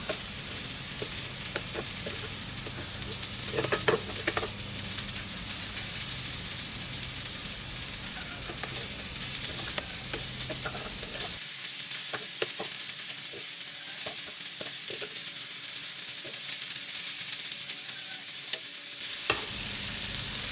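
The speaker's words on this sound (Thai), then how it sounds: "พอไข่เริ่มสุกแล้วก็กลับด้านไปมาแบบนี้นะคะ" Eggs and cucumber stir-fry in a pan, a continuous close sizzle with scraping and turning sounds from a spatula, and the low hum behind it cuts out partway through while the frying carries on.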